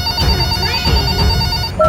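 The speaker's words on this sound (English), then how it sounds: "A banana phone?" Toy banana phone ringing with a bright electronic ringtone, repeating steadily and close by over a cluttered toy-play background, then stopping abruptly near the end.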